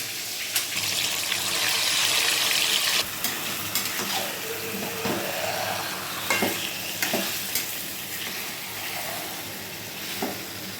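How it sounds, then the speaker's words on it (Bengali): Marinated chicken with bay leaf, tomato and garam masala frying and being stirred in a pan, a steady close sizzle with scraping stir strokes and occasional clatter, no talking. "তেজপাতা, টমেটোটা দিয়ে দেবো, চিনি দিয়ে ম্যারিনেট করে রাখা চিকেনটা দিয়ে দেবো"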